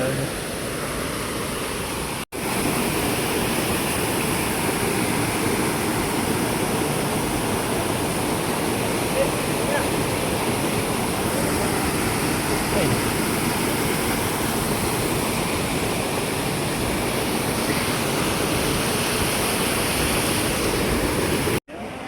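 Steady, dense rush of falling water at Kumari Ella waterfall in Sri Lanka, loud and continuous with no breaks, like standing close to the falls.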